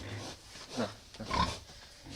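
Sows on a pig farm grunting a few times, with brief snorting calls rising over a low barn background at moderate distance.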